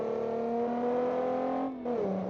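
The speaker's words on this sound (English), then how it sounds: "Definitely an interesting exhaust note." A 1960s sports car engine drones steadily up close, then cuts out briefly and returns at a lower pitch as the revs fall. No voices are heard.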